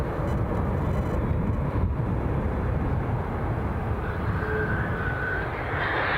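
British Airways aircraft engines at Edinburgh Airport give a steady, close, broad hum and rumble as the jet prepares to taxi, with a faint rising whine near the end.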